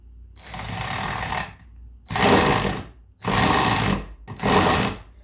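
A power screwdriver with a Phillips bit slips and chatters on a screw head that does not fit it, giving four loud buzzing bursts of grinding, with short pauses between them.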